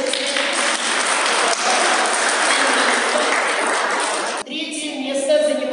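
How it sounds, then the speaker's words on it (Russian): An audience applauds loudly at the prize-giving of a children's general fitness competition in a House of Children's Creativity; the dense clapping runs steadily, then cuts abruptly to quieter, tonal sound near the end. "Бурная аплодисменты."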